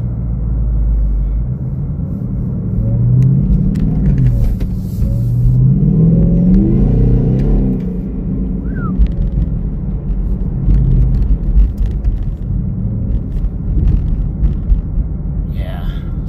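A car engine runs at a low, rumbling idle and rises in a few revs before settling again, and people talk over it throughout.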